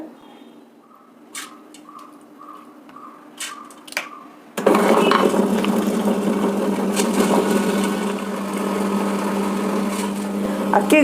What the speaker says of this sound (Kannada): ಇವಾಗ ಇದೇ ಕಂಟೈನರಲ್ಲಿ ಹಾಕಿ ಅಕ್ಕಿನ ರುಬ್ಕೊಳ್ತಾ ಇದ್ದೀನಿ